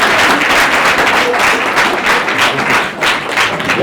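A school audience applauds a peace ambassadors presentation, steady dense clapping filling the room for the whole stretch, loud and close with no voices over it.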